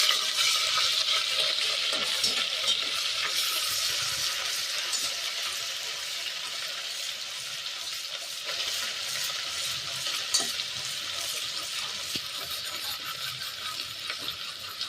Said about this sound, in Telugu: ఇది మనకి అడుగంటకుండా మాడకుండా ఇట్లా ఫ్రై చేసుకోవాలండి